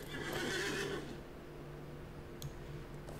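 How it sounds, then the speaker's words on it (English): A horse neighs in the video game LOTRO, a loud whinny lasting about a second, followed by quieter game ambience with a faint tick. "Can you wade the horse through this pool?"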